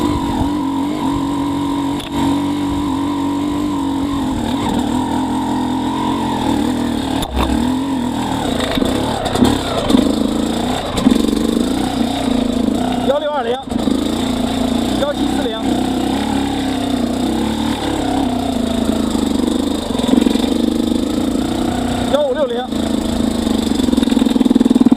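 A motorcycle engine fitted with a Keihin 38 carburetor idles steadily and is revved up and down while being tested for low-RPM stalling, with a person talking over it.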